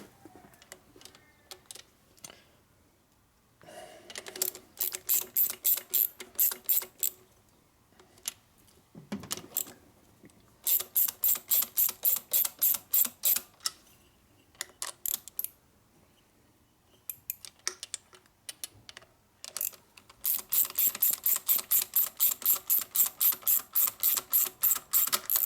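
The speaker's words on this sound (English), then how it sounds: "now I go ahead and tighten up the intake manifold" Repeated ratchet clicking in quick bursts as intake manifold nuts are tightened on a 1949 Harley-Davidson Panhead 74ci engine during a motor overhaul, with short pauses between close, crisp runs of clicks.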